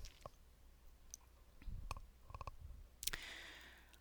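A mouse click lands on a Next button while paging through an online course module, a single sharp tick near the end among scattered faint desk noises.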